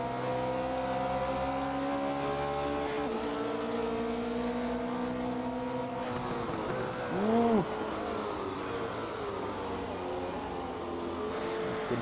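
Porsche race car lapping Silverstone in the video game Assetto Corsa, its engine note climbing and falling through gear changes, with a brief screech midway and a steady drone of other cars.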